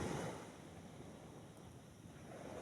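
Steady, soft wash of sea waves at night near a fishing and camping spot, a continuous low roar mixed with wind noise and no voices.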